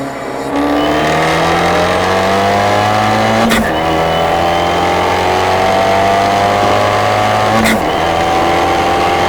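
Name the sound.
car accelerating hard in a race pull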